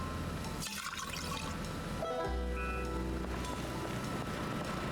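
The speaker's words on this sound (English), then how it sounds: "we can add water from the bucket of tainted water." Water sloshes and pours with a continuous watery rush as a bucket of tainted water is emptied in the Project Zomboid game, with no talk over it.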